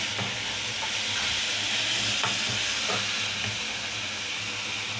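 Oil sizzles steadily in a pan with a constant hiss while eggs are stirred for egg podimas, with a few soft scraping clicks scattered throughout. No one speaks.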